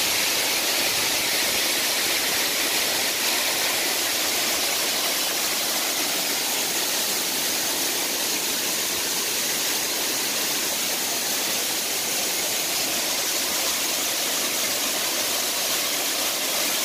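The Elk River in the Appalachians flowing steadily, a loud continuous broadband rush of water heard up close from a trail, without pause for the whole stretch.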